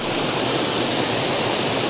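A waterfall pours into a river in a steady, loud, dense rush of water that stays constant throughout and is close to the listener, with no voices.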